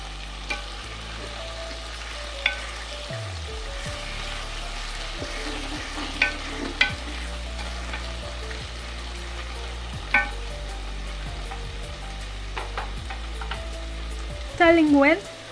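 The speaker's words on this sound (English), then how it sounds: "Stirring well, I covered the pot for some few minutes." Potatoes for githeri, seasoned with curry powder and Royco, sizzle and fry steadily in a pot, with occasional scraping stir strokes and knocks against the pot; no talking.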